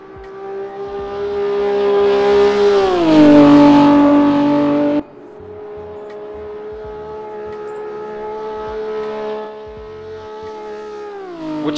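A race car engine in the RaceRoom racing game, loud and close: it climbs in pitch, drops sharply on a downshift, then holds a steady high drone before another downward shift near the end.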